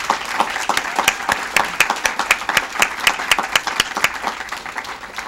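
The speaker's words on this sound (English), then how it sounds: "So please join me in a round of applause for all of these states." Audience applause at an awards segment on expanding substance abuse treatment, sustained dense clapping from a crowd, loud and continuous for several seconds.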